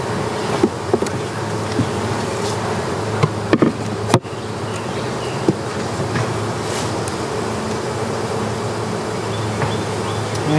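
A steady, dense buzz of many honeybees close by while a hive is split, continuous throughout with a few faint clicks and no voices.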